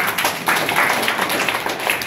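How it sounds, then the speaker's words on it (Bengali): A crowd gives loud, sustained applause, with many hands clapping densely together for a couple of seconds and faint voices mixed in. "জোরে একটা হাততালি যায়।"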